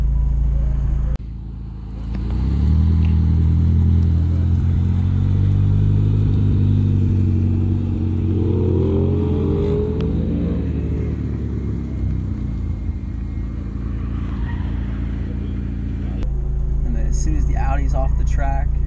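A McLaren sports car idling, then pulling away toward tall cones on a track, a loud, close engine rumble that rises as it drives off, with a voice talking over it.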